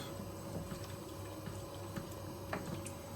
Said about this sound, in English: I'm just going to add a little bit of water